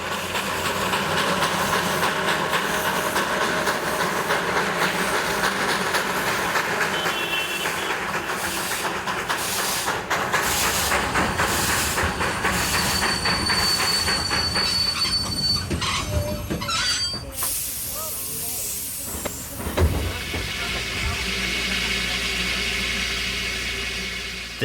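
Darjeeling Himalayan Railway B-class steam engine on a heritage hill line, loud and close, with continuous mechanical rumble, hissing steam and squealing wheels, ending in a sharp release of steam over low chuffing.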